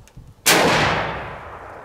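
A single loud, sharp gunshot from a .44 Magnum revolver with a cut-down barrel, fired outdoors, cracking suddenly after a quiet moment and trailing into a long, slowly fading echo.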